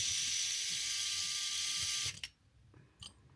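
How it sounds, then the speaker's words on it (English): An electric driver whirs steadily as it backs screws out of Injora RC wheels, a high buzzing spin that stops abruptly after two seconds, followed by a few faint clicks and taps. "So the first thing I want to do is take these first initial screws out."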